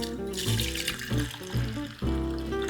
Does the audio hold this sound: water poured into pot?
yes